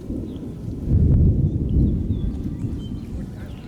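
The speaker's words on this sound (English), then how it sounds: "With thunder rumbling in the background" Low thunder rolls in the distance during an outdoor baseball game between the Spartans and Bombers. A deep, steady rumble swells around the first two seconds, then fades slowly, with faint birdsong above it.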